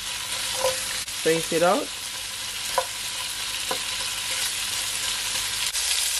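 Chicken feet for Jamaican brown stew searing uncovered in a pot on a hot stove, a loud unbroken sizzle throughout with a few utensil taps and a brief spoken phrase early on.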